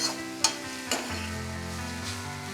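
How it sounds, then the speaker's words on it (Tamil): Grated gooseberry sautéing with spices in sesame oil, a low steady sizzle near the pan, opened by two sharp spatula knocks and then a soft, continuous fry. "அதில் திருவி வச்சிருந்த நெல்லிக்காயை சேர்த்து இந்த மாதிரி நல்லா ஒரு 2 நிமிஷம் வரைக்கும் வதக்கிக்கலாம்"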